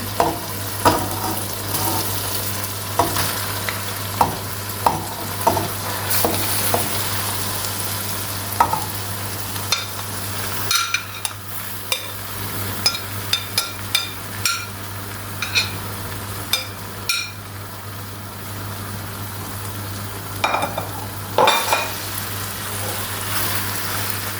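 Dried green beans, squeezed lightly, frying in a pan with a steady sizzle and a low hum beneath, while repeated clicks and scrapes of stirring come in irregular bursts, busier in the second half.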